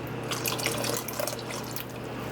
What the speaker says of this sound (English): I'm going to go ahead and add just a little bit more milk to mine